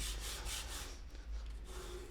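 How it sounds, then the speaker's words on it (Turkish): A wooden bağlama bridge is rubbed back and forth on sandpaper to lower it, making a quiet, continuous scratchy rasp in rhythmic strokes. "zımparaya sürtüp tabandan ve biraz da üst kısımdan alıp bağlama eşiğini düşürmemiz gerekiyor"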